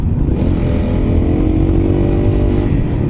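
Honda CRF250L motorcycle riding a narrow mountain road between Lampang and Chiang Mai, with a steady, loud engine drone and heavy wind rumble throughout.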